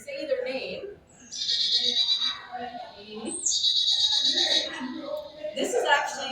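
A voice imitates a chickadee call with high, buzzy repeated notes in two drawn-out bursts, close and clear, with other talking around it.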